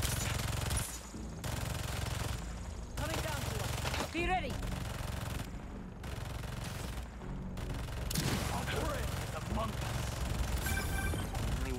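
Turret gunfire in the Marvel's Spider-Man 2 video game, dense bursts of shots running almost continuously with brief gaps, loud and close, under game voices and effects.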